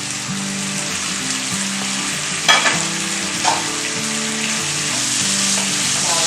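Masala sizzles steadily in a pan of oil for gongura mutton curry, a constant close frying hiss with a couple of brief clinks and stirring scrapes, under a soft musical tone.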